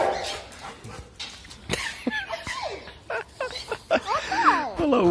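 A small dog barks and yips in short, excited bursts, with a few whimpers, while a person speaking Portuguese talks nearby, with pet cockatiels close by.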